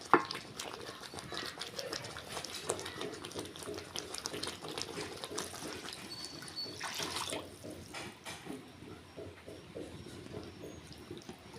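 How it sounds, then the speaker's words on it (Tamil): Water pours into a pan of roadside-style thanni idli kurma curry during cooking, a steady close splashing pour that lasts throughout with no talk. "இப்போ வந்து குருமாவுக்கு தேவையான அளவு தண்ணி சேர்த்துக்கலாம்"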